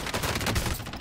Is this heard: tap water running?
no